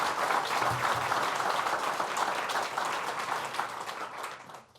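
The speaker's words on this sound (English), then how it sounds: "let's give another round of applause to the Village of Waverly" Another round of applause from an audience at a government event with the Governor of New York, honoring the Village of Waverly; dense, even clapping that holds steady and then tapers off near the end.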